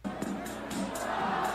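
A recorded crowd cheering in a played video, a dense steady roar of many voices with rising intensity, faint and lasting throughout.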